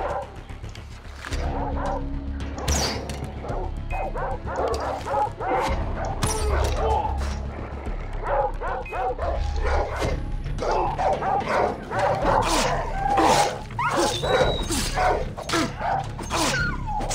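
Dogs in the Far Cry 3 game bark, yip and whimper in quick repeated bursts across the whole stretch, fairly close and loud, with a voice speaking over them at times.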